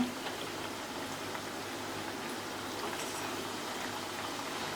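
Sorghum flour vadas fry in hot oil, giving a steady, close crackling sizzle like light rain, constant and even throughout.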